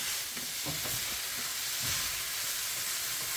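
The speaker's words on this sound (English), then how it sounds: "Oh, but listen to that sizzle." Steady, broadband sizzling of turkey meat frying in a pan for tacos, continuous and close, with a few soft clinks and stirring scrapes underneath.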